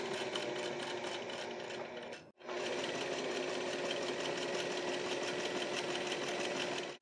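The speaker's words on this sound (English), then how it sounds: "A little top stitching." A sewing machine topstitching a vacation shirt with a Cuban collar, running in a steady, loud, close whirring drone that stops briefly and then starts again at the same even speed, with no talking.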